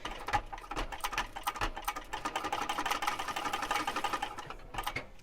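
A sewing machine backstitches a wristlet connector on a double-zip wristlet, running back and forth in a rapid, steady mechanical patter that carries close and clear for several seconds.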